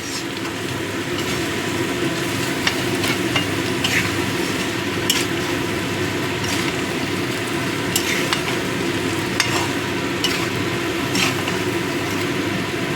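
Prawns and onions for chingri do piyaza are stirred in a hot pan. A dense, loud, continuous sizzle runs throughout, broken by faint scrapes and clicks of the spatula.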